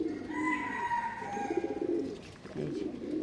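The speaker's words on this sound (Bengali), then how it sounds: "সকালবেলা হলে অনেক কবুতর আসে ওই যে" Pigeons cooing on a home rooftop in the morning, with overlapping soft, repeated coos continuing throughout at close-to-moderate distance and faint background ambience.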